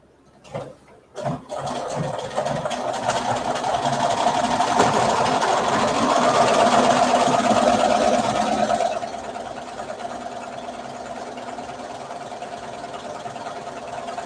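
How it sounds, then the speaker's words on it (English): A sewing machine stitches around a T-shirt in one steady, fairly loud run of several seconds, then drops to a quieter hum after a few short bursts at the start. "And you just sew around."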